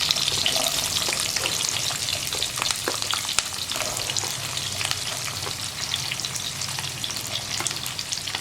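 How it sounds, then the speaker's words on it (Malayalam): Chopped onion and green chillies fry and sizzle steadily in hot oil, with stirring, a dense close crackle that continues without speech. "ഇതേ സെയിം എണ്ണയിലേക്ക് തന്നെ നമ്മൾ മുറിച്ച് വെച്ചിരിക്കുന്ന സവോള ചേർക്കാം."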